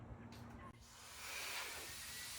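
A Deparee electric air duster running at full blast gives a steady, loud, broadband rushing hiss that briefly drops, then swells slightly stronger as the airflow continues close by.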